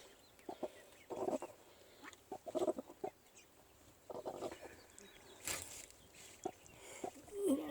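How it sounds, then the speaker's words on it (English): A broody Cochin hen sits on her eggs and clucks to them in soft, repeated bursts, close and fairly quiet, with a few louder notes and brief pauses between. "They cluck to them constantly"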